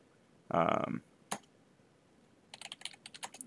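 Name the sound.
typing a command on a computer keyboard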